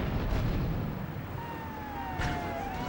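Grand Theft Auto 3 on PS2 produces a heavy explosion, a loud rumbling blast that decays into a broad roar while thin whining tones slide across it.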